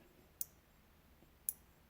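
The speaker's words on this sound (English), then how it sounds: "You can hear it clicking." Two sharp, crisp clicks roughly a second apart from adjusting a Hornady neck turning tool, clear against a quiet background.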